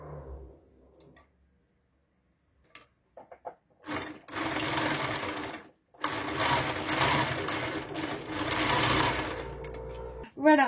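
A sewing machine stitching a fabric pencil case runs in loud, close, sustained bursts with brief pauses between them, after quieter handling sounds at the start.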